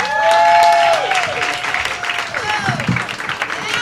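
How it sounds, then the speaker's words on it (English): An audience at the Comedy Cellar comedy club applauds a comedian's introduction, loud dense clapping at first that thins out, with a voice carrying over it. "Put your hands together for Mr. John Welde, everybody."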